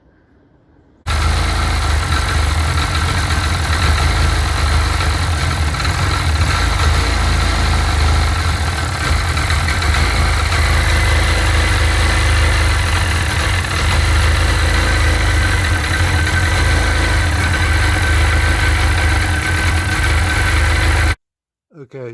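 Sea-Doo 951 DI two-stroke jet ski engine starts up and settles into a steady, loud idle with a constant low rumble and buzzing vibration, running continuously until it cuts off near the end.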